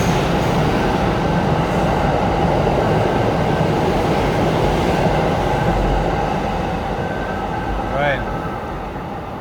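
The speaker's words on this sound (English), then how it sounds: "Just gonna wait for this train to go through." A train rumbles steadily through Hanazono Station in Japan, a dense rolling roar with faint rhythmic clatter, and a brief squeal of wheels near the end.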